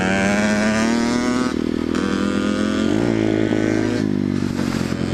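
A Yamaha YZ80 pit bike engine revving hard and close, its buzzing two-stroke note climbing, then dropping and rising again through several throttle changes, loud and continuous with no talk.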